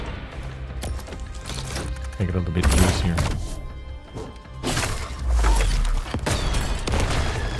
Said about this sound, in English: Let's load the cannon.